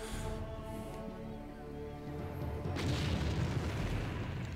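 Units open fire in the real-time strategy game Empire Earth, producing low rumbling booms and a noisy burst of gunfire that swells in the second half under a continuous game backdrop.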